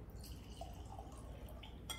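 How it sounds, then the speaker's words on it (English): Fifteen-year-old rum blend poured from a heavy bottle into a glass, faint liquid trickling and small drips with a light glassy clink near the end, quiet and close. "Some pretty good pour right there."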